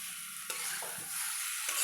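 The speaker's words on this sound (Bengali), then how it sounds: "মিশিয়ে নিয়ে আলুটা ভাজতে ভাজতে অলমোস্ট সিদ্ধ হয়ে গেছে।" Potatoes frying in a pan with spices, turned over and over by a spoon: a steady close sizzle with a couple of louder scraping stirs, no voices.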